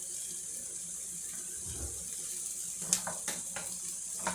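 Penne pasta tipped into a pot of boiling salted water in a home kitchen, giving a steady watery hiss with a soft low splash and a few light clicks and taps near the end, no voices.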